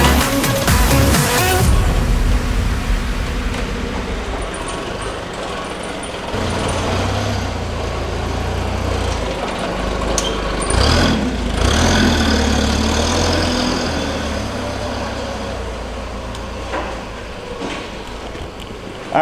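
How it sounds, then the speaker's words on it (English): A 2017 Jaguar F-Type engine runs after being mounted during a rebuild, starting with a loud burst then settling into a steady, rumbling idle with occasional clanks and shifts in tone nearby. "Alright guys, the engine's on."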